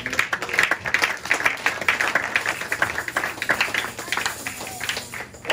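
Rhythmic clapping from a Pentecostal church congregation during a service, steady and fairly close, with voices calling out over it.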